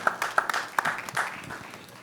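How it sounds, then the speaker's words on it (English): An audience at a delegate assembly applauds, a modest patter of individual claps with several sharp, distinct hits early on, settling into a looser, thinning ovation. "Finally, yes, you may applaud."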